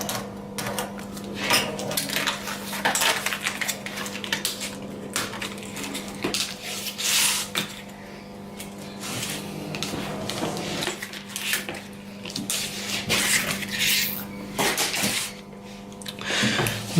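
Laser-cut wooden fuselage parts of a VT-Superstar model plane being pressed out with a hobby knife: repeated close scratchy cracks and snaps of thin wood, steady over a faint constant hum, with no talking.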